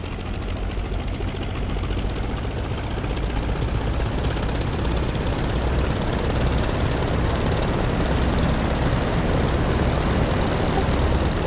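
A propeller plane in a flight game spooling up for takeoff on a runway, with a steady, loud, buzzing engine and propeller drone that holds and slightly builds throughout, with no talk.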